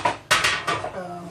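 Metal clanks and clatters from a muffin pan being handled while washing dishes, a few sharp knocks close by followed by lighter rattling and scraping.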